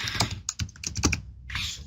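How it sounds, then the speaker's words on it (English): Fingers type on a computer keyboard in a quick, uneven run of close, crisp clicks and clacks, with a short pause and then a softer flurry. "Luann, I'm typing."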